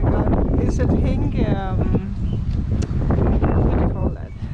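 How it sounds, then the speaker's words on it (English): Strong wind buffets the microphone outdoors in a steady low rumble, while someone talks over it. "Oh, it's very windy today."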